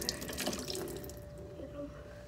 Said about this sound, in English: I'll put that much water.